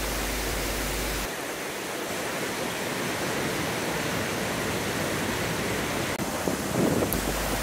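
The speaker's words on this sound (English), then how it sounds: "the only sounds the rushing of the water and birdsong" Rushing water in the wooded Kennall Vale, a Cornish valley with industrial ruins, a steady broadband roar that stays loud and continuous throughout, with a faint brief chirp near the end.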